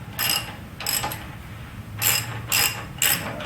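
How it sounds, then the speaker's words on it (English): Ratchet wrench clicking in quick bursts while backing out the last bolt on a Toyota FJ Cruiser lower control arm, four or five close, crisp ratcheting runs separated by brief pauses with no talk. "Now to remove the final bolt."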